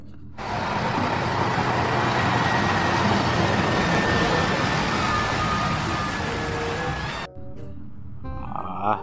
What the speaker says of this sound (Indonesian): Truk tangki teman-teman.